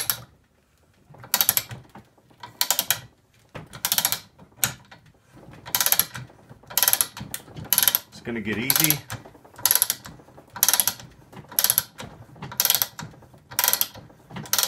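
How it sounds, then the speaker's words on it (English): A ratchet wrench turning the draw stud of a Slug Buster knockout punch gives repeated bursts of close, rhythmic clicking, with short pauses between strokes and a brief spoken line near the start. "as I turn this, the draw stud's gonna be drawing this through"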